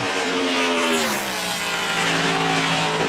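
Matt Kenseth's 17 NASCAR Sprint Cup car on a qualifying lap at Bristol roars loud and close, a continuous engine snarl whose pitch shifts as it passes, with no one talking.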